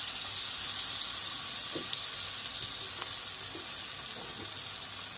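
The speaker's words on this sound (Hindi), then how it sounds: "ये बटर जरा सा मेल्ट होता है" Butter melting in hot oil in a pan over a medium flame gives a steady, continuous sizzle throughout, with a few faint clinks, and no talking.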